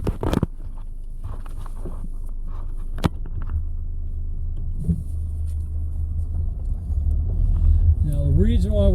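Car driving slowly along a road through an outdoor historic mining village, a steady low engine rumble throughout with a sharp knock near three seconds and a brief rising tone near the end.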